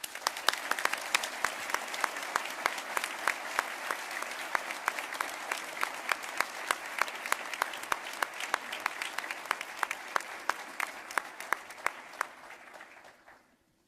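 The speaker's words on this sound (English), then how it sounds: "And now, applause for our candidates, Michael Fedeli, David Martin, Kathleen Murp" An audience claps steadily for candidates at a Stamford mayoral debate, a dense crowd of hands keeping a brisk rhythm before the applause thins and fades out at the end.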